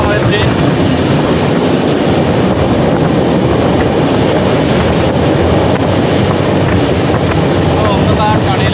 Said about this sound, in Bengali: অন্ধকার টানেলের মধ্যে দিয়ে যাচ্ছে।